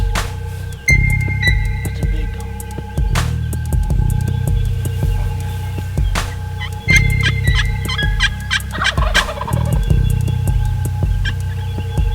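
A wild turkey gobbles loudly several times at irregular intervals in the early morning in Kansas, ringing out over a steady low hum.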